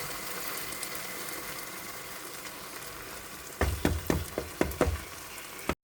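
Spinach, mushrooms and cream cooking together in a pan, giving a steady close sizzle throughout, then a short run of sharp clattering knocks near the end as the mixture is stirred.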